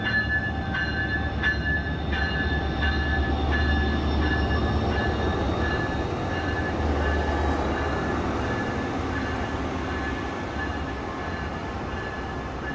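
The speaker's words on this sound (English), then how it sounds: "This is my train leaving to continue on to Miami." A Brightline high-speed train departs Orlando airport station toward Miami, rumbling steadily past at close range, a low continuous roar with faint metallic tones and rhythmic clacks, gradually fading slightly as it moves away.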